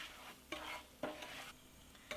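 Spice mix for a baby eggplant curry stir-fried in a pan, with a steady soft sizzle and three sharp scraping stirs spaced about half a second apart.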